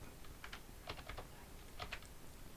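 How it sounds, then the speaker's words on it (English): Keys on a computer keyboard are pressed in quick, irregular clusters of soft clicks, close by and quiet, with no one speaking. "hold down the start button, use the arrow keys"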